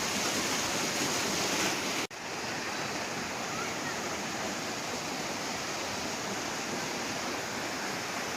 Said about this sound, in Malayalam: വലിയൊരു മോട്ടോർ പമ്പ് വെച്ച് വെള്ളം അടിക്കുന്ന പോലെ ഉണ്ട്. എന്നാ ശക്തിയില്ല വെള്ളം പോകുന്നത്.